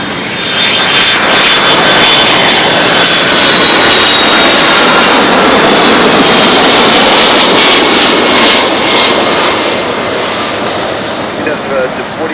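Jet airliner engines roaring at Los Angeles International Airport, a loud sustained broadband rumble and whine that swells and stays strong across the whole stretch, with faint background voices.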